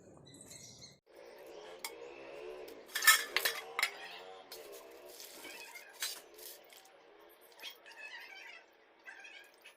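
Potatoes being washed: water splashing and clattering in a metal vessel, with irregular clinks and knocks near by.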